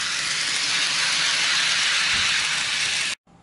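A model train runs on a tabletop layout, giving a steady, loud, close whirring hiss with no voices, then cutting off abruptly just before the end.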